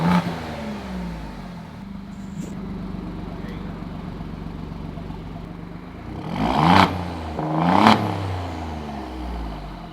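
An Alfa Romeo Giulia Quadrifoglio with a race-mode exhaust mod idles, then revs sharply twice with a loud, throaty exhaust roar before settling back to a steady idle.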